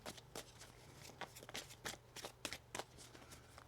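Rapid riffling bursts of tarot cards being shuffled, several quick flurries in a row against a low steady hum, close and fairly quiet.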